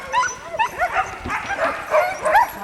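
Sled dogs and young puppies in Alaska yipping, barking and whimpering in quick overlapping bursts, close by and fairly loud, with a steady run of excited cries through the whole stretch.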